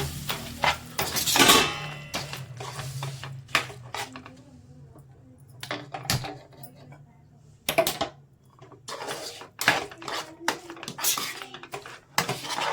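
Carrot laddu mixture is stirred in a pan, giving irregular clinks and scrapes of a spoon against metal, with bursts of busy stirring between quieter gaps and a faint sizzle underneath.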